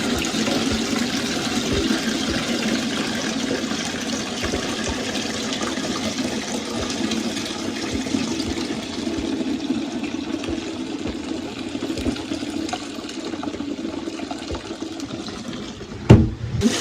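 Rinse water poured out of a bathtub after hand washing clothes, a steady broad splashing rush that runs unbroken, close and fairly loud, then ends with a sharp clunk.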